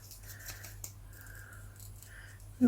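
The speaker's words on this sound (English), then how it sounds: "these scissors aren't really good for delicate stuff like this, for, you know, fiddly stuff, because they're quite stiff." Stiff, fairly new scissors snip through a paper stencil, giving soft scratchy cutting strokes, one sharper snip, and a sudden louder crunch at the end, all fairly close and quiet.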